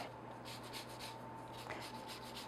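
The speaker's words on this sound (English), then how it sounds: "you want to make sure you just grate the yellow part, not the white part underneath, which is very bitter" Lemon zest grated on a grater, a quiet steady rasping scrape in repeated short strokes close by, with no talk.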